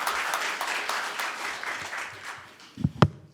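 Audience members at a spring Buddhist service held in the National Assembly applaud, a brisk crowd clapping that tapers off, with a few louder thumps and a clatter near the end.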